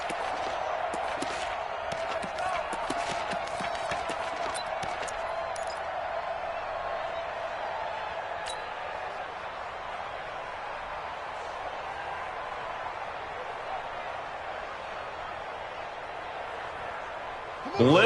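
Broad, steady roar of a stadium crowd in a Madden football video game during a tense two-point conversion, with a commentator's voice over it in places, holding fairly even before a brief louder burst at the end.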